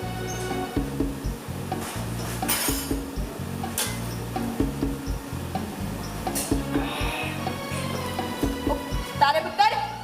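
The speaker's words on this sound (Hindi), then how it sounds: "अवतार भाई हमारे पराठे भी तैयार हो गए, आप एक काम करो, प्लेट लगाओ" Plates and dishes clink as they are laid out for a meal during a children's festival stage play, with light clatter running under voices and background music.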